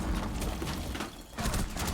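Explosions and gunfire in a competitive tactical shooter match, dense booming blasts and rapid shots layered continuously with a brief dip before another loud burst.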